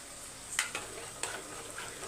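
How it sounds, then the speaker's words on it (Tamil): A spoon stirring coriander into pea white kurma in a pan, brief close scrapes over a steady low simmer and sizzle, with no talking. "இப்போ வந்து மிக்ஸ் பண்ணிக்கலாம்"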